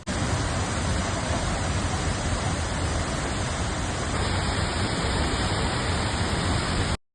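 Heavy water crashes down at a waterfall, a dense, loud, unbroken roar of spray and downpour that carries evenly from start to finish with no voices.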